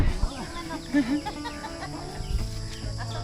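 Chickens cluck nearby in short bursts, with a few sharper squawks over a busy farmyard background.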